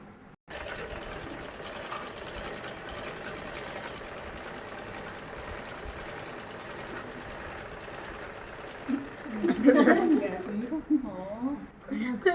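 A sewing machine stitching fabric runs in a steady, close mechanical whir for most of the stretch, with someone talking over it toward the end as it keeps going.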